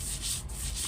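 Lentils being ground by hand on a stone slab (pata) into a thick paste, giving a steady rough rubbing and scraping sound that rises and falls with each stroke, close up with no talk.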